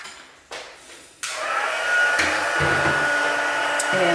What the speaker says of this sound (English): I'm going to start my heat gun